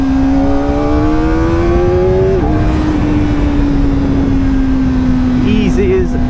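A Kawasaki Ninja ZX4RR motorcycle engine rises in pitch as it accelerates to overtake on a narrow country road, then holds a loud steady drone with rushing wind, close and continuous, with a voice speaking over it.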